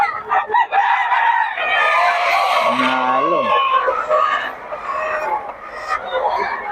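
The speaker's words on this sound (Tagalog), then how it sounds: "Solid mga manok ni Boss Perry ngayon." SBR pure brown red gamecocks crow and cluck close by, one long crow rising and falling mid-way among scattered clucks, with someone talking over the birds throughout.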